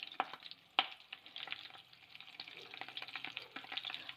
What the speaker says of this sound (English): So here I added some mustard seeds and some fresh curry leaves